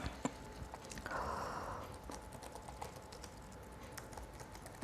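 Fingers typing a folder name on a computer keyboard, the keystrokes a faint, irregular patter of small clicks at close range over a quiet room hum, with no one speaking.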